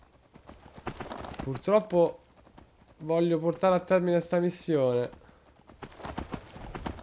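Horse hooves clip-clopping while riding through Skyrim, a steady rhythmic patter running under a voice, which speaks throughout.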